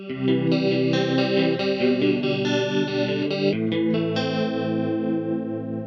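An electric guitar through a VOX AC30 amPlug 2 plays a run of sustained notes with shimmering chorus and tremolo effect, the final note ringing out and fading.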